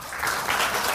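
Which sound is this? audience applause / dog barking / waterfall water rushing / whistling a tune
audience applause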